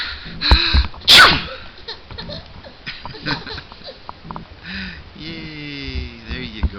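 Sharp, loud sneeze near the start, with a toddler's giggles and soft babbling around it and a quiet voice afterward.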